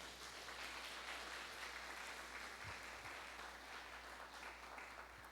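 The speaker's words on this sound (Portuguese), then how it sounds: "Dê uma salva de palmas para ele," A church congregation applauding, a faint, continuous wash of clapping that holds steady throughout with no break.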